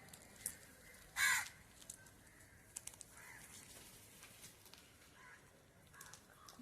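A crow at a Konkan village home, where fresh fish is being cleaned, gives one loud, close caw about a second in, then a few fainter calls and small sounds against quiet outdoor ambience.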